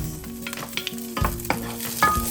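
Five garlic cloves frying in two tablespoons of olive oil in a pot, stirred with a utensil that knocks and scrapes the pot bottom several times over a steady close sizzle, with no voices.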